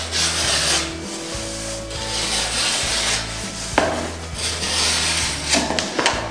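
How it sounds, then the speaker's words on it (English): A Stanley knife trimming the edge of a laminate flooring board: loud, continuous close scraping and rasping strokes with a few sharper catches, over a low hum and with no talk. "I tend to just do it with a Stanley knife, and I just go along and trim it off like so."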